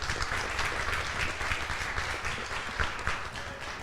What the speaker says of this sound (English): let's have a round of applause for Eric and Cece